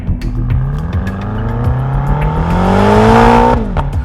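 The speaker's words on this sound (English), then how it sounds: "Off the line, the Panamera GTS's superior all-wheel drive traction gives it an advantage over the M5's rear wheels only power delivery." A BMW M5 and a Porsche Panamera GTS launch side by side in a quarter-mile drag race, engines revving loud and close as they pull hard through a rising surge that breaks off with a sharp gear change.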